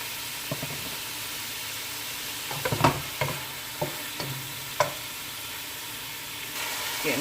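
Shrimp sizzle steadily in a hot pan under a constant frying hiss, broken by several sharp clanks and scrapes of a utensil turning them, with no voices.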